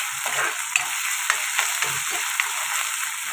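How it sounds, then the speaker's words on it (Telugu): Small fish pieces fry in a pan with a steady bright sizzle, while a spatula stirs them in a few soft scraping taps close by. "ఇది కూడా పచ్చివాసన పోయేదాకా ఫ్రై చేసుకుందాం"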